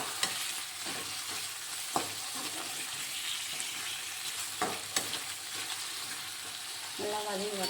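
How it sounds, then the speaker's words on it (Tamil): Bitter gourd sautés in hot oil for a thick gravy, a steady soft sizzle with occasional sharp clicks of a spoon stirring against the pan, and a faint trickle near the end. "பாவக்காய் நல்லா எண்ணெயில் வதங்கி வரணும்"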